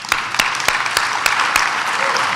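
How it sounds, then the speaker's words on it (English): Audience applause at a formal portrait unveiling: steady crowd clapping with several sharp, evenly spaced louder claps near the microphone standing out over the wash, continuous for the whole stretch. "I want to give them a hand"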